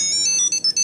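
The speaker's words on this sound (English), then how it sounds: "My keys are ringing." A Tile Bluetooth tracker clipped to a set of keys rings on command from a phone app, giving a bright, high electronic chime in a quick repeating pattern of short beeps, close and alone.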